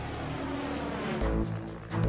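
A Turbo Raven propeller-driven aerobatic airplane roars steadily overhead, with a continuous droning engine and a surge of louder, rougher noise partway through.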